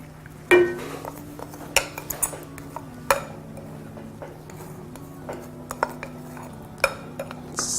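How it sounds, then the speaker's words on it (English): Spoon scraping and clinking against a pot while Acha porridge made with milk is stirred, giving a few sparse, soft taps and scrapes spread over several seconds above a low, steady kitchen hum. "So I'm gonna stir this."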